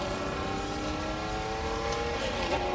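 Sir Jackie Stewart's 1960s Ferrari race car at the Goodwood Festival of Speed, heard as a steady, fairly distant engine note that rises slightly as it goes past, with no talk.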